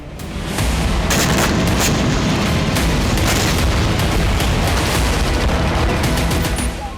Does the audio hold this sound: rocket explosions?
yes